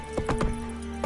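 Roach the horse trots in The Witcher 3, a quick run of hoof clip-clops close up over a steady game music drone.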